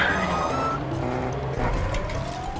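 A car engine in Fortnite revs and whines, its pitch sweeping upward as it approaches, a steady droning roar with faint tire noise.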